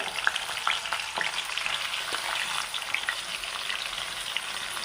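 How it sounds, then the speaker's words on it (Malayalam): Round slices of bitter gourd fry in hot coconut oil, giving a continuous close sizzle dotted with small pops and light spatters, no talking. "ഇനി നമ്മൾക്ക് ആ വട്ടത്തിൽ മുറിച്ച് വെച്ച പാവയ്ക്ക അല്ലെങ്കിൽ കയ്പക്ക ആ എണ്ണയിലോട്ട് ഒന്ന് ഇട്ട് കൊടുക്കാം"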